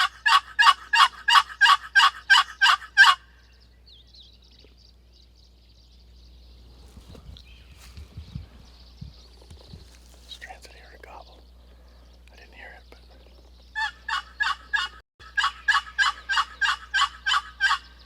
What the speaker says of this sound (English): Sound like the gravel bar bird gobbled here a little bit ago.